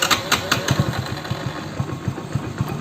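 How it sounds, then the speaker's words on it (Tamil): A motorcycle engine, run while an OBD2 scanner checks for fault codes, idles steadily close by with a rhythmic putter and regular sharper pulses throughout, no talking over it. "பைக் கரெக்டாக ஸ்டார்ட் ஆகுது, ஐலிங் கரெக்டாக நிற்கிது"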